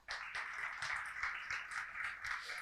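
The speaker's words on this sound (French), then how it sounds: "on les applaudit encore" Applause from a church congregation at the close of a prayer meeting, a steady, dense patter of many hands clapping together, fairly close and sustained without a break.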